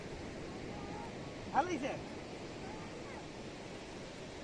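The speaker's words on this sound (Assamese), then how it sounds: "ঢৌটো বহুত ডাঙৰকৈ আহিছে" Big sea waves wash onto a beach in a continuous broad rush, with a person talking briefly over the surf.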